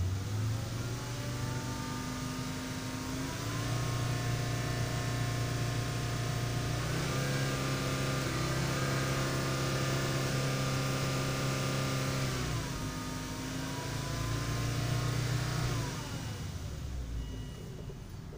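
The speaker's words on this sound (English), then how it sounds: "Just going to rev the motor a bit." A Volvo engine with an electronic throttle module under diagnosis revs up and down several times, its steady mid-pitched drone rising and falling in smooth swells across the whole stretch, close and fairly loud with no talking.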